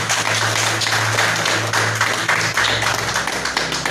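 A church congregation applauds for Jesus with dense, overlapping clapping, a continuous patter at steady moderate loudness, with a low hum underneath and no talking.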